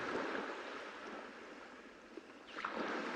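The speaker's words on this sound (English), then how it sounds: "allow the beautiful sounds of the waves" Gentle ocean waves wash onto a calm paradise beach, a soft steady hiss with slow swells, faint and continuous with no voices.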